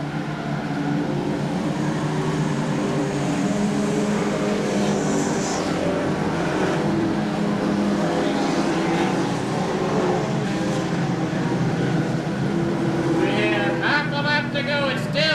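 Stock cars racing at Seekonk Speedway in 1995, engines droning and whining continuously as cars circle the oval, with a race announcer talking over the steady motor roar throughout.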